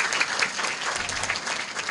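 A seminar audience gives a doctor a round of applause: dense, steady clapping from many hands fills the whole span at an even, moderate level.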